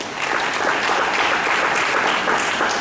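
A church congregation claps hands during a Sunday service, a thick, steady wash of applause filling the room without pause and heard loud and close.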